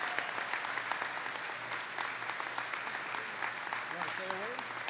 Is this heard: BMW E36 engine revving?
no